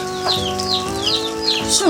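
Chickens cluck close by in a short, lively burst of repeated calls, with a steady tonal hum running underneath.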